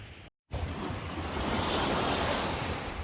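Ocean waves breaking on a beach at high tide, a steady loud broadband roar of surf with gusts of wind buffeting the microphone, briefly cutting out before resuming and continuing without a break.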